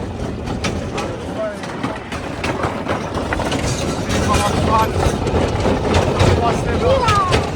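Inside a moving train carriage in Mexico, a constant rumbling rattle of the wagon with faint clacks runs underneath as people chat nearby.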